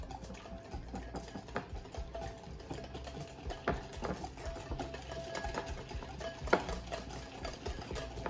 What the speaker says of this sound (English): a little whisk